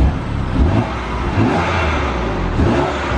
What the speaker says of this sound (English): so give it a few little revs